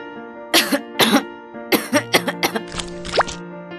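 An elderly woman in an animated folk tale coughs repeatedly, giving harsh, strained coughs and throat clearing in irregular bursts that sound close and fairly loud, with no talk over them.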